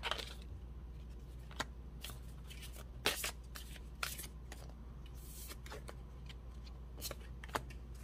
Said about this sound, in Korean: 정말 진짜 마지막으로 좋은 카드를 조금 뽑아보도록 할게요